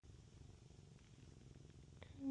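A small young house kitten purrs softly and steadily up close in a quiet room, ending in a brief faint meow-like chirp.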